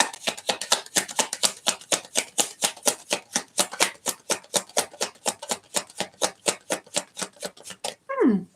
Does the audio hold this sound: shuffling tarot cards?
yes